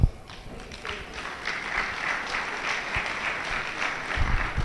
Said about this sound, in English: That clap was not good enough.